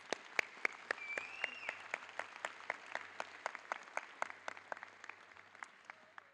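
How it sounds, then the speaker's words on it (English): A graduation audience applauds, with crisp, evenly paced claps repeating steadily at moderate loudness across a large space. "Let's give ourselves one more round of applause."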